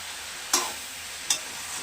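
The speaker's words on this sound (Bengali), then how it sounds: "বাঁধাকপি আর আলু সিদ্ধ করে রেখেছিলাম দিয়ে দিলাম। এবার খালি কষাবো" Boiled cabbage and potatoes sautéed in a pan for a fish-head cabbage curry, a steady low sizzle broken by two sharp scraping stirs of a spatula.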